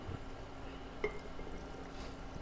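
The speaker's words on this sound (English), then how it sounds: "And just pour it in." Brine is poured into a jar of fermenting cauliflower, giving a faint, steady liquid pour with one brief splash or clink near the middle. No one speaks.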